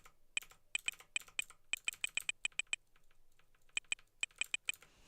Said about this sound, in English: Every time I try and press a key on my keyboard, that's the noise that it makes.